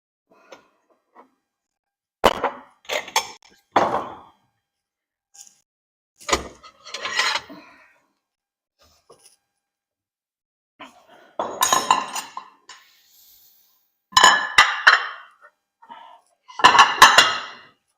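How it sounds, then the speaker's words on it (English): A plate and bowl clink and knock together in short, separate bursts while soup is being served, with quiet gaps between the clatters and no talk over them. "So we just get a plate and a bowl"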